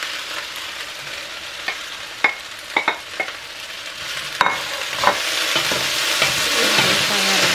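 Chopped vegetables for a potato and panela cheese soup fry in a little oil, with a steady sizzle and scattered sharp clicks of stirring against the pan, the frying building louder toward the end.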